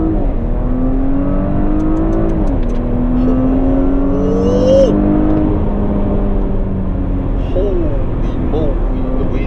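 A 2019 Porsche Cayenne S accelerates hard, its engine note rising and falling steadily through gear changes for several seconds, loud and close inside the cabin with some road noise beneath.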